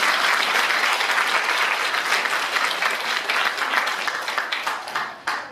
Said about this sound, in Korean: 축하의 박수 하는 영광입니다.